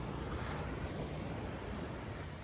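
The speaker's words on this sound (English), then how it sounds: "pretty nice beach" Ocean waves wash onto a beach of crystal-blue water, making a soft, steady roar of surf with some wind, faint and continuous with no voices.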